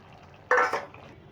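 Tamarind pulp drops into a pot of cooking pumpkin, making a single short wet plop and clatter that fades quickly against a quiet kitchen background.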